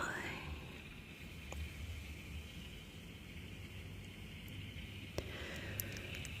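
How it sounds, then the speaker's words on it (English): A car engine hums low and steady while driving at night in the rain, under a broad, even wash of road and rain noise, with a couple of faint ticks near the end. "Listen to the steady, soothing rumble of the car engine"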